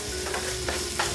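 Kielbasa pieces sizzling in a skillet for jambalaya, a brief close crackle of frying with a few stirring scrapes.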